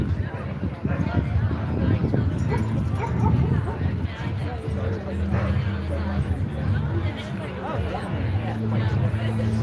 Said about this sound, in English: We let the dogs out.